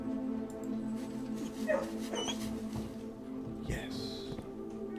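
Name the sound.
dog barking and whimpering in kennel, Blue Prince video game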